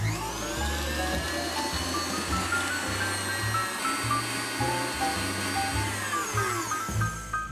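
An electric stand mixer whirs as it beats red velvet cupcake batter under a cover, starting at low speed and then turning faster. The motor whine is close and continuous, rising and dropping slightly as the speed changes.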